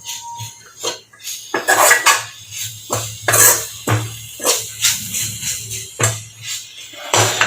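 Spatula clinks and scrapes against a pan while masala dosa potato filling is stirred with a little turmeric, coming in repeated close bursts with short pauses.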